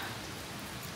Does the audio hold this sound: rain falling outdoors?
yes